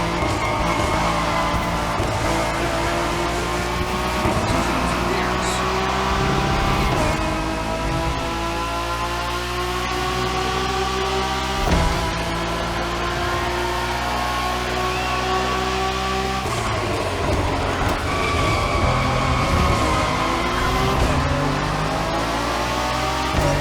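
Acura NSX GT3 race cars lap a track with long straights and tight turns in The Crew Motorfest, engines roaring loudly and continuously with rising revs, gear changes and occasional tire skids, no voices.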